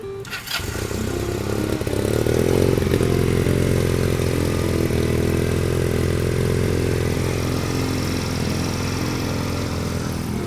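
A 2020 GPX Legend 250 Twin two-cylinder motorcycle starts with a sharp burst, then settles into a steady, close, even idle that holds loud and unbroken with no talking.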